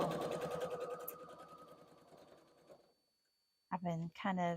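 A sewing machine stitches a quilt seam along a seam guide in a fast, steady run for nearly three seconds, close and fairly quiet, then stops, and a person starts talking after a short silence.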